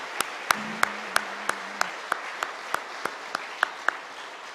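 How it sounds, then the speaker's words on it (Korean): A church congregation at an early-morning prayer service claps for the young worship team, a thin steady rhythm of evenly spaced claps in unison, roughly three per second, over a quiet room with a brief low hum early on. "우리 큰 격려와 우리 찬양팀들을 위해서 박수 한번 합시다"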